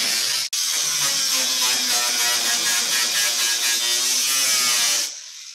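A power tool cuts a window into a band saw's metal frame tube, a steady close-up high-pitched buzzing whine running for about five seconds after a brief click, then stopping.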